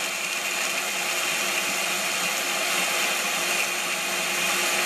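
A blender whirs loudly and steadily throughout, blending almonds into almond milk, a dense continuous motor roar with no talking.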